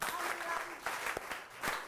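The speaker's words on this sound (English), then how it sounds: "Clap for Bayern." Classroom students clapping for the winning team during a lesson game, a short burst of scattered applause with a teacher's voice talking over it.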